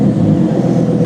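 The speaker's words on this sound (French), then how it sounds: "Vas-y, mamie, mets un petit coup de gaz, là." A car engine held at a loud, steady rev for about a second at a tuning workshop, a thick continuous roar with no talk over it.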